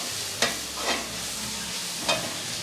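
Vegetables sautéing in a pan beside simmering sambar, a low steady sizzle broken by three short scraping stirs, close and moderately quiet with no talking.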